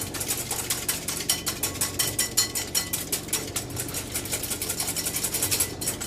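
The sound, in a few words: whisking egg whites with a large whisk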